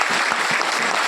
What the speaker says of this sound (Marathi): एकदम जोरदार टाळ्या झाला पाहिजे.